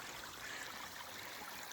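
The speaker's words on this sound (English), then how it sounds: "we're going up through the streams" A mountain stream trickles through a pine forest on the Lappsteinen trail near Storvik, Norway, as a faint, steady watery hiss with no pauses and no voices.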